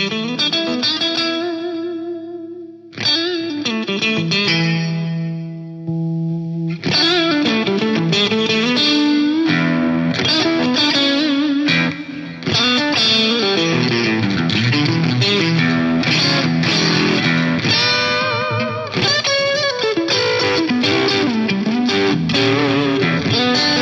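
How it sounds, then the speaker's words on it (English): Electric guitar runs through the overdrive effect of a Lexicon MPX G2 multi-effects unit, playing loud distorted chords and riffs with sustained notes and brief pauses, with no talking. "Maybe let's go with the Overdrive on here."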